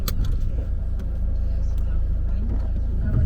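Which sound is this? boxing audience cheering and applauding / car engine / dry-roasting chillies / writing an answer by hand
car engine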